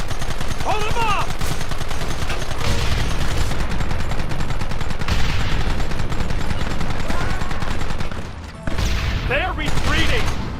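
Dense, continuous gunfire from rifles and repeating guns in a Red Dead Redemption shootout, loud and close with overlapping shots, raised voices shouting over the battle, and a brief lull near the end before the firing resumes.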